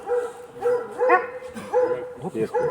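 A Ukrainian Carpathian hound barks and whimpers in a few short bursts, close by, with a voice mixed in among the yelps.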